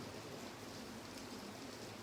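Steady rain falls outdoors at a retreat center in Kunhegyes, Hungary, a dense, even hiss that holds without pause and without voices.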